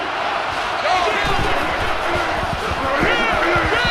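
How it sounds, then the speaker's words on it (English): A stadium crowd roars throughout an NCAA Football 2014 video game, a dense, constant wall of cheering and shouting that carries through the whole stretch with swelling yells. "And this crowd is going absolutely crazy."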